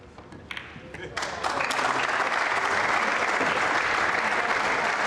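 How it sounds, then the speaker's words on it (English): A crowd at the 2015 World Cup of Pool semi-final between England and Japan breaks into applause, a few scattered claps swelling into sustained, dense clapping, with a commentator's voice at the start. "Naoki Oi just imploring the crowd to give them some support for one last push"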